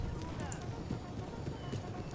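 Horse hooves in the strategy game Empire: Total War, a soft, rapid clip-clop of cavalry moving steadily under someone talking.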